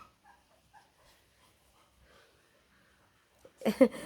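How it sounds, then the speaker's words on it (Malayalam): Puppies whimper in short, faint high cries scattered through the quiet, then a louder burst of yelps near the end. "നമ്മളെ പട്ടിക്കുട്ടികളൊക്കെ കണ്ണു തുറന്നു കേട്ടോ ദേവസേ"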